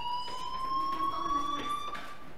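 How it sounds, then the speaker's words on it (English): A fire alarm rings in the video game Life is Strange, a steady electronic tone holding through the whole stretch at moderate level, with faint background sounds beneath it. "do you hear that fire alarm?"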